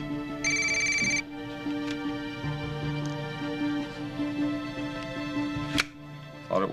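A telephone ringtone sounds in a bar: one short burst of electronic ringing near the start, over a steady low hum and faint background murmur.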